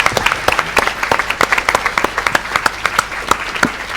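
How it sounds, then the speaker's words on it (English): An audience claps for a startup acceleration panel. The claps are sparse and distinct, uneven but steady, and a voice briefly says thanks over them. "Big round of applause, please."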